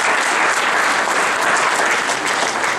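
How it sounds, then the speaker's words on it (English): Loud, close applause from a chamber of commerce candidate forum audience, a thick continuous wash of clapping that holds steady throughout, with no talk. "I think we should give Vicki applause just for all the exercise she did today"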